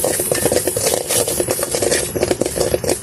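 Semolina roasts in ghee for ukkarai, a spoon scraping and stirring the grains around the pan in a steady, close, continuous rustle with a faint sizzle.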